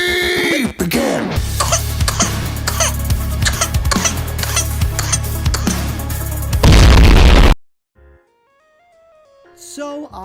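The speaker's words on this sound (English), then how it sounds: "Hydrogen bomb versus coughing baby" A loud booming hydrogen bomb blast rumbles beneath a baby's repeated sharp coughs, ending in a heavy surge, then near silence with faint tonal sounds.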